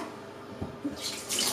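Water from a spray bottle spritzes over wheat-oat bread dough in two quick hissing bursts close by, after a couple of soft handling knocks and with no talk.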